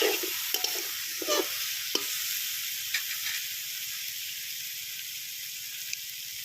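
Fried drumsticks and potatoes go into a pan with hot oil, with a few spatula knocks and scrapes early on, then a steady bright sizzle and hiss that carries on alone.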